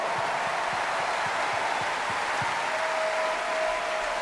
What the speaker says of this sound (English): Please give them a huge classic round of applause.